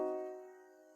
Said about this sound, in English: The diminished.